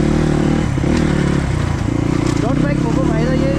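A dirt bike engine drones loudly and steadily in high mountain terrain, a constant low rumble heard close by with a person talking over it.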